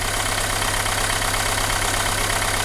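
A Renault Megane 2 engine idles steadily and loudly, a constant close mechanical hum and rumble with no change in pace throughout.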